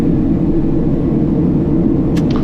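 A King Air B350ER turboprop taxis to a stop at Accra, its loud, steady low engine rumble filling the whole clip, with a faint short high tone near the end.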